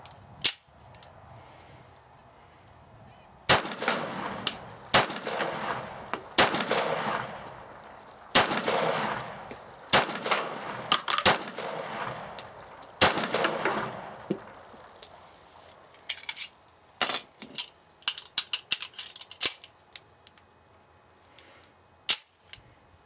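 A Colt 1911 pistol fires at targets 50 meters away outdoors, giving sharp, loud single shots spaced a few seconds apart, then a faster irregular cluster of shots with echoes trailing after each report.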